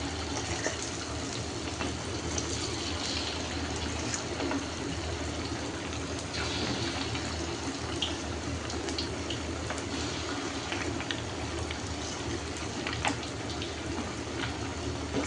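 Hot oil bubbles and sizzles in a wok while chicken fries, a steady, close, continuous hiss with small crackles and no let-up.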